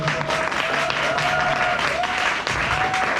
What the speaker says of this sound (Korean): 우리 힘찬 박수 우리 이규영 부장님 모시도록 하겠습니다.